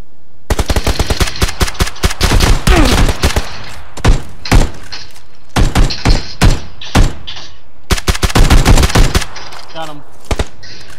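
Bursts of rapid gunfire in a shooter video game, loud repeated volleys with separate single shots and thuds between them. The firing stops and starts over several seconds.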